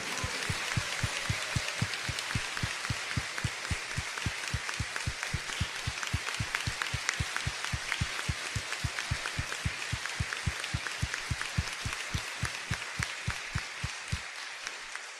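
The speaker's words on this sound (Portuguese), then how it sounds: "Nós devemos a São José uma salva de palmas calorosa." Warm, sustained applause from a church congregation honoring Saint Joseph at a solemn feast-day Mass, an even rhythmic clapping that fills the space for about fifteen seconds before easing off at the end.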